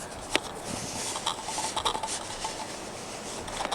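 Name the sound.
Pentax K-x camera lens being focused during video recording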